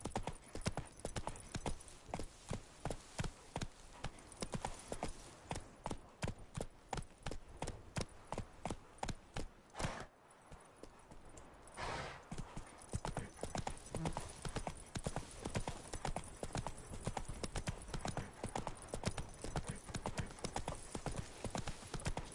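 In The Witcher 3, a horse gallops with a fast, steady clip-clop of hooves close by, broken briefly by a pause and a snort before the hoofbeats resume.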